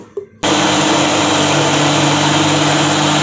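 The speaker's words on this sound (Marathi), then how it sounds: "हे आता आपण मिक्सरला बारीक करून घेऊयात" A mixer grinder whirs loudly and steadily as it grinds torn chapati with a tablespoon of ghee for jaggery laddu, kicking in abruptly after a brief quiet start and holding a constant high-pitched roar.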